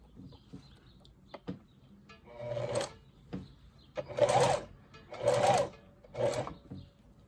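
A sewing machine stitches ribbon onto a tutu in short separate bursts, four distinct runs of whirring needle action between quieter pauses and faint handling clicks.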